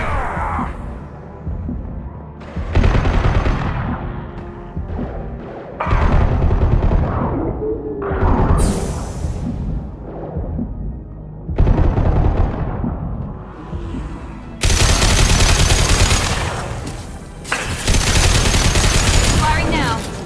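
Gunfire from the video game Космические гастарбайтеры 2 comes in loud, separate bursts of several seconds each, broken by short quieter gaps, with a heavy sustained volley near the end.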